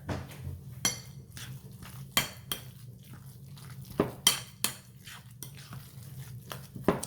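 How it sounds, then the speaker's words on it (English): A spoon stirs spinach lasagna filling in a pot or bowl, making scattered clinks and scrapes of metal against the dish at an uneven rhythm, fairly close and moderately quiet. "I'm gonna give this a stir."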